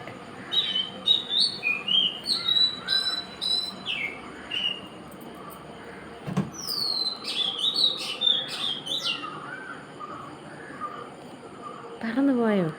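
A small bird sings near the microphone in a string of bright chirps and whistled phrases, with pauses between bursts and a louder call at the end, while people talk in the background.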